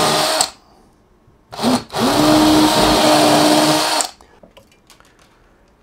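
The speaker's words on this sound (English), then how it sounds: "So I'm going to use my drill" A power drill whirs in two bursts, a short one and then a longer steady run of a few seconds, while making holes in a model railway baseboard; close and loud, with quiet handling noises between.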